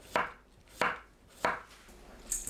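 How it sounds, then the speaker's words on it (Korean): A knife slicing cucumber into thin rounds on a cutting board, with three crisp, evenly spaced cuts close up and a fainter fourth at the end, with no talking. "오이를 둥글고 얇게 썰어주세요."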